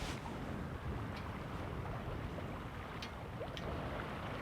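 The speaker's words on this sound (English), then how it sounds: "Honestly, that wind is lethal." Strong wind buffets a small fishing boat out on open water, a steady loud roar of gusts and wind noise with faint sloshing waves underneath, constant throughout with no talking.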